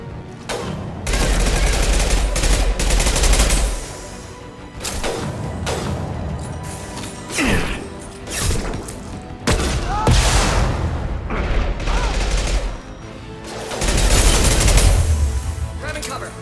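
Concussive Shot ability blasts and gunfire in Mass Effect 2, heavy booming impacts mixed with sharp rapid shots in repeated bursts, loud and close, with voices calling out between the explosions.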